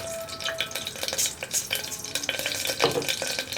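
Cloves and fennel seeds spluttering in hot oil inside a pressure cooker, close and busy crackling with quick pops and stirring scrapes, continuous and fairly loud.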